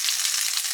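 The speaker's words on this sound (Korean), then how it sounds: "역시 기름을 튀기는 소리는 좋아." Oil sizzles steadily as vegan food fries in a pan, a dense, even crackle held close and loud with no voices over it.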